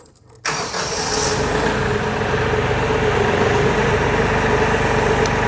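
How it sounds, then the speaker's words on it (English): After a brief quiet moment a tractor engine cranks and catches, then settles into a loud, steady rumbling idle nearby. "now we got the tractor running"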